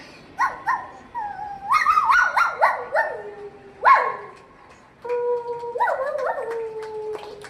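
A voice mimics a small dog's high, whiny yaps and yelps, several short rising cries in a row followed by a longer drawn-out whimper.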